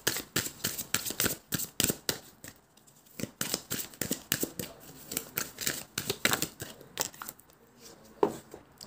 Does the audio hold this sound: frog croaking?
no